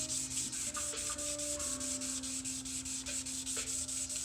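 Rhythmic sanding of a G10 composite panel by hand with 600 grit sandpaper, used dry, giving steady close scratchy back-and-forth strokes with no talk.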